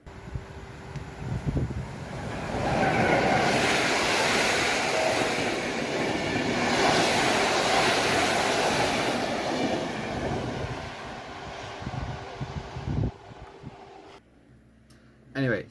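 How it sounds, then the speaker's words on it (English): A passing intercity train in Poland rumbles loudly with a broad rushing roar that builds, holds, then fades, followed by near quiet. "Here is a video of an intercity train in Poland."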